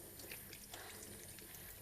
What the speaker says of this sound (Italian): Un attimo mi lavo le mani